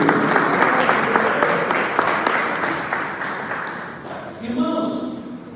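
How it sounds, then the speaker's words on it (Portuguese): A church congregation at a worship service applauds with a dense, sustained burst of clapping, which thins out toward the end as a voice and some tonal sound come through. "Dê um aplauso aí, glória a Deus."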